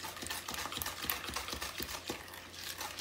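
A spoon stirs ingredients into banana bread batter in a bowl, soft repeated scraping and clicking strokes in quick, uneven rhythm, close and fairly quiet.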